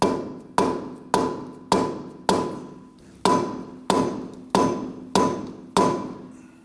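A mallet repeatedly strikes the rear upper control arm of a 2008-2011 Ford Focus, about eleven loud, evenly spaced metallic thuds, each ringing briefly before the next blow, close up with no talk.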